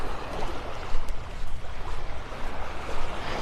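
Surf rolls onto the sand at Vanderbilt Beach in North Naples, Florida, a continuous wash of waves with gentle swells and a breezy outdoor hiss.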